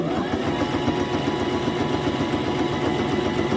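A sewing machine runs steadily in zigzag stitch while sewing an over-the-page embellishment clip, a continuous close motor whir with no talking.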